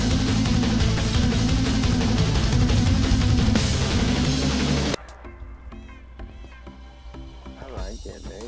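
Cats meowing in the Minecraft video game, a steady run of many cat calls repeated under loud game music and background sound, with the level dropping partway through as the calls continue.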